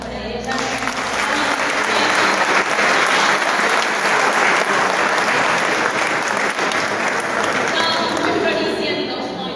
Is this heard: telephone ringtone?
no